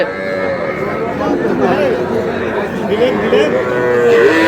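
Cattle, young bulls and heifer calves, moo loudly and repeatedly in a busy crowd at Ambari livestock market in Dinajpur, with people talking and chattering all around in the background.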